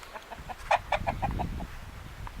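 Chickens in a backyard coop give a run of short, rhythmic clucks with one louder burst, moderately close over a low ambient rumble; no one speaks.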